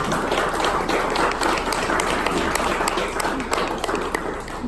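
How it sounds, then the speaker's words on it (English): An audience at a startup business pitch night breaks into sustained applause, dense overlapping claps filling the room at fairly close range and holding steady before easing slightly at the end. "we want to have them all be recognized with a round of applause"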